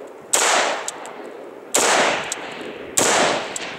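An AR-15 rifle fitted with an AFAB Mini compensator fires from the prone position outdoors: three loud, sharp single shots spaced over a second apart, each with a ringing decay.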